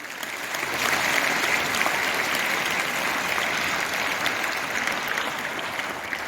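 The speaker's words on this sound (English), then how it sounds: "Let us all give him a good clap." Steady applause from a crowd honouring a bishop newly appointed Archbishop of Bhopal at his farewell gathering, a dense even patter that swells in early and holds at a moderate level throughout.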